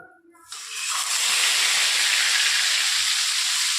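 Bata fish dropped into hot oil, a sudden loud frying hiss bursting in after a moment of quiet, then holding steady and close as a dense, crackling sizzle in a home kitchen.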